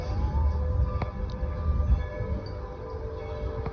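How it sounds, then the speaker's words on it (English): Low rumble of a Dollywood theme park train in the distance, steady and muffled, with faint tonal hums drifting over the background noise. "in the background you just heard the train, which is coming for its first"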